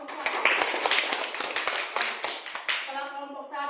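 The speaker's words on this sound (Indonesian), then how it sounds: "Baik, tepuk tangan buat kelompok 1." Students in a classroom applauding a group presentation, close, uneven hand claps in a lively burst that fades out as a voice takes over at the end.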